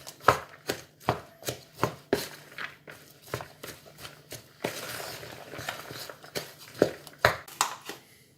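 Potatoes tossed with garlic granules and paprika in a bowl, giving a steady series of close knocking thuds and scraping clatter, about two per second, with a brief rougher stretch in the middle.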